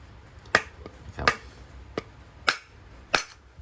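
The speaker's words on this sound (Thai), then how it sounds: "อเอาค้อนเคาะตรงนี้นะครับ ตรงท้ายของตัวกบนะครับ" A hammer taps the back end of a Japanese hand plane's wooden body to loosen the blade, giving five sharp, close knocks at uneven intervals with quiet pauses between them.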